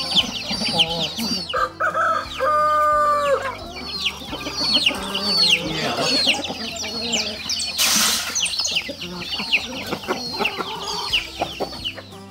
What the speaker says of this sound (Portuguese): Olha lá que galinha relienta.